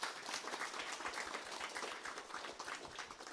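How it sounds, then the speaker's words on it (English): Audience applause for two children, Anil and Indra, at a school foundation day program, a steady dense wash of many clapping hands lasting several seconds, fairly distant and soft. "Give them a big round of applause."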